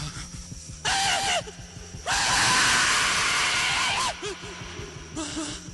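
Shrill, piercing screeches ride over a driving goth song, with high wailing vocal bursts that swell, fall back and return against the steady, loud backing music.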